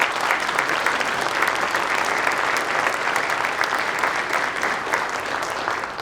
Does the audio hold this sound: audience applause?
yes